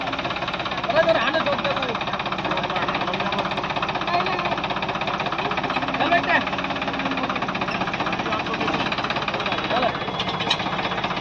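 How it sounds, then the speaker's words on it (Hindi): An old John Deere tractor with worn tyres pulls a 9x9 harrow, its engine rumbling loud and steady with a knocking, vibrating texture throughout. "ट्रैक्टर ये बहुत ही पावरफुल इंजन है जॉन डियर का"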